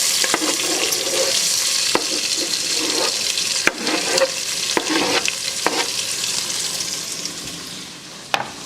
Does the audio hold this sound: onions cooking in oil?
yes